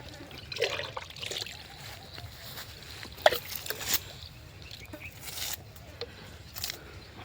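About two litres of liquid are splashed out in a ring around the base of a lemon tree in a field, giving faint, uneven trickling and spattering bursts against soft outdoor background noise.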